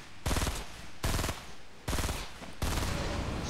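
Four loud, evenly spaced bursts of rapid gunfire in a shooter video game, each a short volley of close reports roughly a second apart, with game ambience between.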